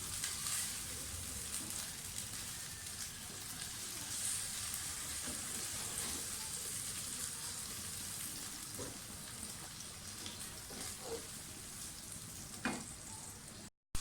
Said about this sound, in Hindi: टमाटर फ्राई कर लें अच्छी तरह से।